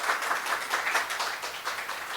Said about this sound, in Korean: 저희 구찬 지휘자님께 다시 한번 큰 박수 부탁드리겠습니다